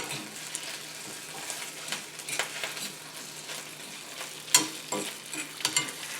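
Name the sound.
tomato paste frying and browning in a pan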